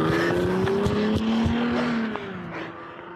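A Mercedes accelerates hard and speeds away from a police traffic stop in Grove City, engine droning loudly with tires squealing, the sound starting close and then fading slightly as the car pulls off.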